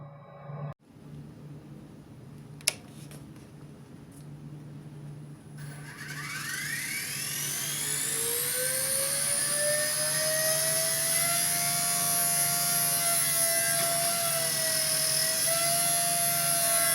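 A K110 beginner RC helicopter spools up and hovers, its high rotor and motor whine rising after a few seconds and then holding steady and loud for the rest of the stretch, with no talking.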